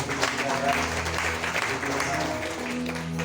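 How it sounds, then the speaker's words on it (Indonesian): A congregation at a Saturday church service claps in steady, continuous applause, with voices blending in underneath. "Boleh kasih tepuk tangan yang bagaimana Tuhan"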